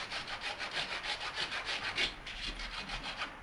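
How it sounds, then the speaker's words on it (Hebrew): A back saw cuts a plastic drain pipe in quick, even back-and-forth strokes, about four per second, a close rasping rhythm heard alone. "ומתחילים לנסר בעדינות."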